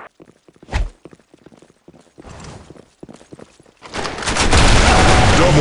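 Gunfire in the shooter video game BlackShot: a few scattered sharp shots and short bursts give way to a loud, sustained burst of rapid automatic fire up close.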